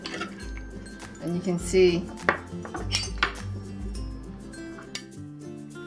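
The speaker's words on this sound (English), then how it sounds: "and then I take a offset spatula, run it through," An offset spatula is drawn through set almond jello in a pan, giving soft scraping and occasional metal clinks against the pan, close by, while a voice talks briefly over it.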